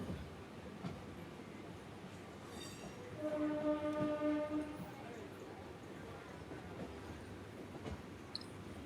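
A MEMU passenger train slows on the Narasapuram to Vijayavada line at dusk, its steady rolling rumble carrying a sustained two-tone horn blast midway, heard from inside the train.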